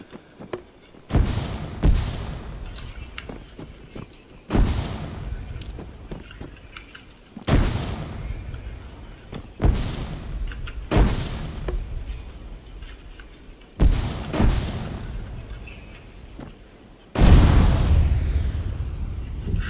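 Heavy explosions and booming blasts in the military shooter Arma 3, roughly seven deep thuds spaced a few seconds apart, each with a rumbling tail, the last one the loudest.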